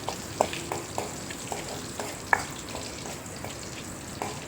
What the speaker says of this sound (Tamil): இது வந்து நல்லா வந்து கரண்டி வச்சு வறுத்து விட்டுருங்க.